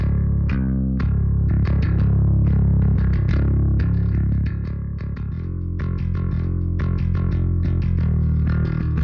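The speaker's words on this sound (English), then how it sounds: "we actually have a lot of control over just how much distortion we actually get out of these amp sim tones here" Gritty, distorted bass guitar through an amp-simulation plugin set to a crunchier drive, playing a steady riff of sustained notes and short picked accents, loud and alone.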